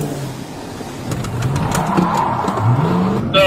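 Cars racing through a high-speed police chase on the freeway, engines whining and rising in pitch close by, with brief sharper tire noise near the end.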